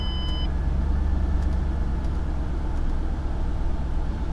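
A 4.6-liter 3-valve V8 car engine with a 5-speed manual idles smoothly just after starting, a steady deep rumble close by with faint ticks over it and no voices.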